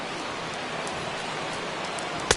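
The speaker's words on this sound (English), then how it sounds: "the conditions aren't ideal with the rain coming down" Steady rain falls on a ballpark in a baseball video game, an even hiss of drops throughout with a single brief sharp tap near the end, no voices over it.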